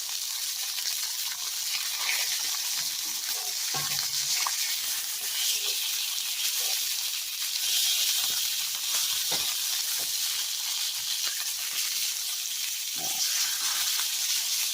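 Lamb shoulder chops with the fat left on sizzle steadily in a hot pan after being flipped, a loud continuous hiss and crackle with a few small bumps and clinks, with no talking.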